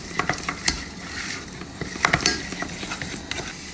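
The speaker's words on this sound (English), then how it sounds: "Just stick a chunk of butter in, and then just add enough flour so it soaks up the butter." A butter and flour roux sizzles softly in a pan while being stirred, with a continuous low fry broken by scraping, clicking utensil strokes close by and no talking.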